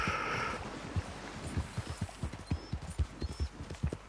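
Horse hooves clip-clop in a steady walking rhythm, fairly close and clear, with faint background noise at the start and no talking over the steps.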